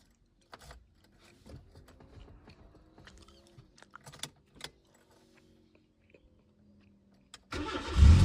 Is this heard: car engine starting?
yes